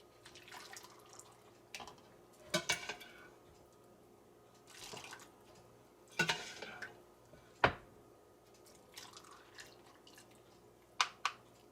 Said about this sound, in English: now that I'm done getting the jars nice and full, I'm going to go ahead and ladle in some of this liquid.